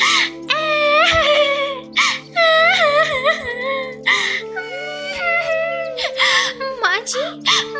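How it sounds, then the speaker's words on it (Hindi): A voice performer wails and sobs loudly and continuously as a crying cartoon bird, with rising and falling cries broken by short gasps, close and prominent. "टुनटुनी चिड़िया लगातार जोर जोर से रोए जा रही थी।"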